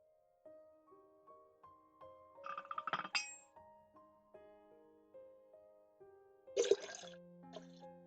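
Liquid trickling and dripping into a glass with soft clinks, accompanied by sustained melodic tones; quiet and close, with a brief louder splash near the end.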